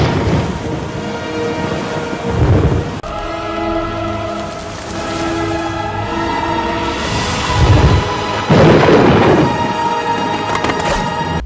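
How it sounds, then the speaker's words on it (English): A film thunderstorm at sea rumbles with heavy, sustained low roars and swells, rising in two or three loud surges beneath a layered musical score. "before a storm hits. And it's a pretty wicked storm"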